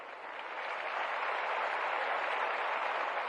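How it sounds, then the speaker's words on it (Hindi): An audience claps at a gathering as names are called, producing a soft, even patter of many hands that swells slightly and continues steadily, heard from some distance. "तालियां बजती रहनी चाहिए, तालियां बजाएं,"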